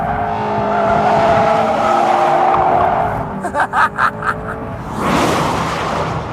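A 2016 Mazda MX-5 Miata Club drifting through a long sweeper, the engine droning with a sustained tire squeal, then a quick run of stuttering bursts as the car shifts, before the loud roar and squeal return up close.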